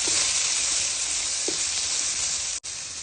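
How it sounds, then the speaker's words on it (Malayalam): Crushed ginger, garlic and shallots sauté in a pan for fish curry, giving a loud, steady, close sizzle throughout with a few faint stirring taps and no talk. "ഇഞ്ചി, വെളുത്തുള്ളി, കൊച്ചുള്ളി ചതച്ചത് ഇട്ട് നന്നായിട്ട് വഴറ്റി കൊടുക്കുക"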